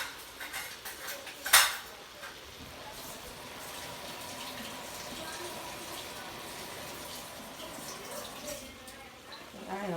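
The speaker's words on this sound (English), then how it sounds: "Let me wipe off a fork." A fork clinks against dishes while being wiped in a home kitchen during gravy making, with a sharp metallic clatter early on, then soft rubbing and running-water wash sounds at low level.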